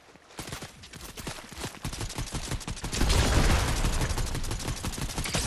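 Video game gunfire, a dense run of rapid sharp shots that grows louder and heavier partway through into a sustained fusillade, close and without talk.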